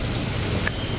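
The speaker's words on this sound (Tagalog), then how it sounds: "So grabe ulan dito mga paps." Heavy rain pours steadily near Toa Payoh Market in Singapore, a dense continuous hiss and drumming on nearby surfaces, loud and unbroken for the whole second with no voices.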